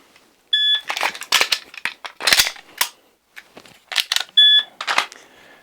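A shot timer gives two sharp electronic beeps, several seconds apart, during a dry-fire pistol malfunction drill, with quick clicks and metallic handling noises of the gun in between and no talking.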